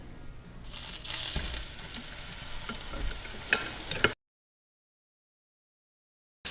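Pork chops sear in a hot, oiled cast iron skillet, a loud steady sizzle with a few sharp pops and crackles for about four seconds before the sound cuts to silence.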